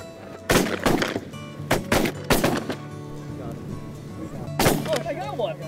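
Shotgun blasts during a goose hunt, several loud booming shots in quick bursts with echoing tails, while hunters shout excitedly over the gunfire outdoors.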